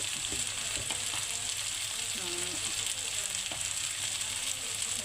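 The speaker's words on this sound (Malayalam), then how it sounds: "4 സ്പൂണ് മല്ലിപ്പൊടി ഇട്ടു. ഇനി അതിനെ ഒന്ന് ഇളക്കി കൊടുക്കാം" Coriander powder fries in a pan with a continuous low sizzle as a spoon stirs it, scraping faintly in short strokes, with no one talking over it.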